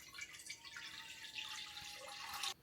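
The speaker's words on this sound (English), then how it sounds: "We're gonna go ahead and pour our 2 cups of water." Two cups of water are poured into a cooking pot for making rosemary hair water, a steady splashing stream running for about two and a half seconds before stopping abruptly.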